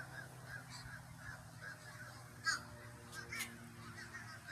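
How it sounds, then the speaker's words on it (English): Geese honk outside a house, giving a few scattered, faint calls over a steady low background hum, with no talking. "Look at all the birds."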